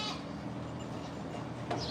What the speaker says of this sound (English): Oh, you poor sheep can't get nothing.